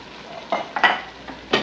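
Cooked ground meat with diced tomatoes and tomato sauce stirred in a pan: a few brief, close wet scrapes and squelches in quick succession over a faint background.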